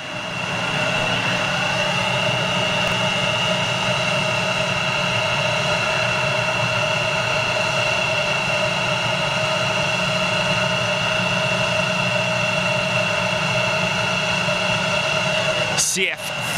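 A steady, loud whine and rumble from an airliner's CF34 jet engines holds throughout, close by at an airport gate, with a high tonal hum over broad roar.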